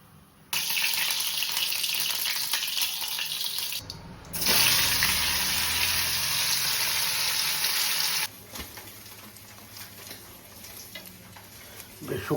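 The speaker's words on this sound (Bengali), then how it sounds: "শুকনো লঙ্কাটা ভালো করে ভেজে নিলাম" Dried red chillies frying in hot oil in a home kitchen, a steady loud sizzle with bursts of stirring and a brief change midway before it settles quieter toward the end.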